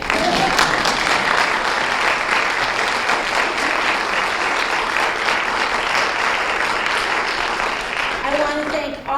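An audience at a League of Women Voters school board candidate forum in Edwardsville claps steadily and loudly for several seconds, a dense sustained round of applause that tapers briefly at the end.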